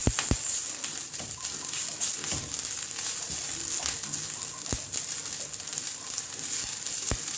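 Ginger garlic paste sizzles and crackles steadily in a hot pan with curry leaves while it is stirred, with a few sharp clicks of the spoon against the pan over a continuous frying hiss.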